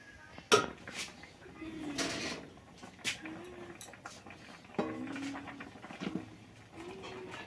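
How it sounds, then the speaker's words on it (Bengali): Rice being rinsed in a pot in a home kitchen, with clattering of metal vessels, scraping and splashing knocks in uneven bursts, close and moderately loud, under faint background noise. "ভাতের আগে চাল ঠাল ধুয়ে নিই"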